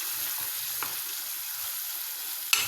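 Macaroni for makaron xengel being stirred in a frying pan, a steady close sizzle of frying with a couple of brief scraping stir sounds, no talking.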